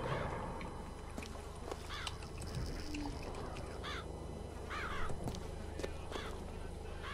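Ravens cawing in the video game Bioshock Infinite, several harsh rasping caws spaced a second or so apart over a low droning game ambience, moderately faint, with no speech.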